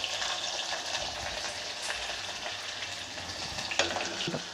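Shallots, the small sambar onions, fry in hot oil for a fish curry, a steady crackling sizzle at moderate level with a few louder pops toward the end and no talking.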